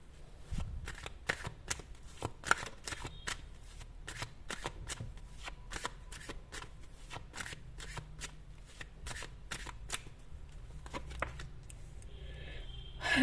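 Tarot cards being shuffled by hand, a long run of crisp riffling and slapping bursts repeated at a fairly even pace, close and clear over a faint low hum.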